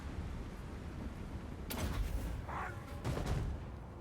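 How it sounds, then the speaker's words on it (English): In a Total War: Warhammer battle, a bomb run produces two faint, distant explosions a little over a second apart, each a short, broad boom over a low background rumble. "this is a good little bomb run here"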